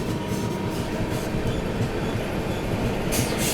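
A Lucknow Junction–Pune Express passenger train runs past with a steady, loud rumble and rattle of wheels on rails, heard alone without voices.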